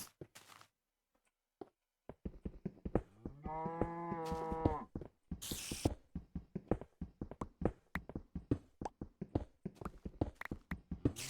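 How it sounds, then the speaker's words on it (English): Cow in Minecraft (Better Than Adventure version) lets out a loud, drawn-out moo, surrounded by a rapid series of sharp clicks and taps from in-game actions, with no talking. "That cow is really, really loud."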